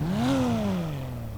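A Porsche 911 Stinger in GTA 5 starts up with a sharp rising rev that peaks quickly and then falls away into a steady engine tone. The sound is brief, loud and close, with no talking over it.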